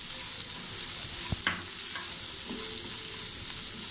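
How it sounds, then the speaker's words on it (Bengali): Sliced onions fry with about a spoonful of salt in a pan for a soybean dish, a steady soft sizzle with a couple of brief stirring clicks, fairly quiet and without talk. "এখন পেঁয়াজের মধ্যে 1 চামচের মতো লবণ দিয়ে খুব ভালো করে ভেজে নেব,"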